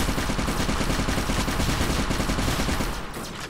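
Turrets in the Fallout Equestria Remains video game fire a dense, continuous barrage of rapid automatic shots, loud and close, that eases slightly near the end.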